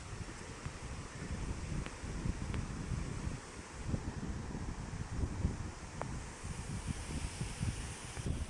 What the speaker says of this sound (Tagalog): talaga tinutudo na tayo ng matinding hangin